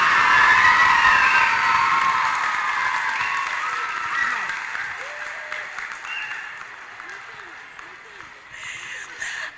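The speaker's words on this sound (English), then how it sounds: "I want to give these young ladies and gentlemen another big round of applause." A big round of applause from the audience at an elementary school Black History program, loud at first and slowly fading, with faint voices and some cheering.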